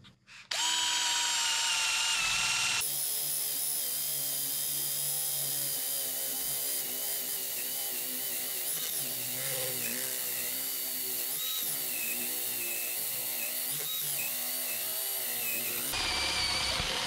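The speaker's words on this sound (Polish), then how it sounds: "Także z tym wierceniem na pewno nie było tutaj najłatwiej." A FERM CDM 1149 cordless drill driving an 18 mm bit through a resinous piece of wood, a loud, steady whirring grind that runs almost unbroken for about thirteen seconds, close up and with no talking.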